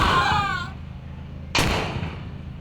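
Firecracker bombs going off during 15 August celebrations: a fading whistling tone, then one sharp, loud bang that echoes and dies away.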